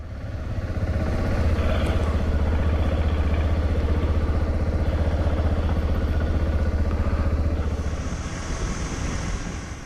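Motorcycle engine idling on a road trip in Croatia, a loud, steady low rumble with light clatter and wind noise, holding throughout before easing slightly near the end.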